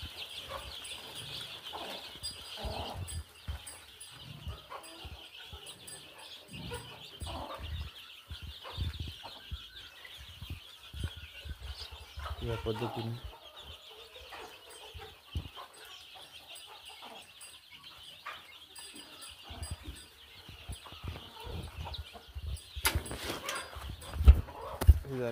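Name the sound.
chickens clucking in a poultry coop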